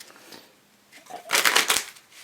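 A deck of playing cards is riffled and shuffled up close, a quick crisp flurry of clicks swelling and fading within about a second.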